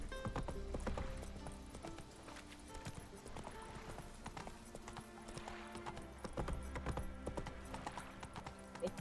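Roach, a horse in The Witcher video game, trots along with steady, rhythmic clip-clop hoofbeats that stay close and fairly loud under a busy game soundscape, and no one speaks.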